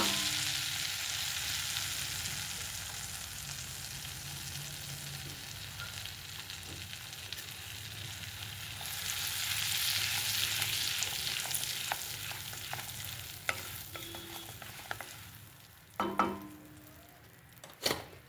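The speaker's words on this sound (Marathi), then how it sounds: "आता हे बटर मेल्ट झालं की आपण जिरे मोहरीची फोडणी देऊया" Cumin and mustard seeds temper in melted butter in a pan for an aloo mutter bhaji. They make a steady, soft sizzle that swells midway, with a few utensil clinks near the end.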